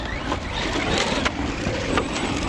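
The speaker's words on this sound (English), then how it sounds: "you can hear all those rocks and stuff getting kicked up into the body" Arrma Mojave 4S RC truck driving over rocky, dusty ground, rapid gritty rattling and sharp ticks of stones striking its body over a rushing background, close and continuous.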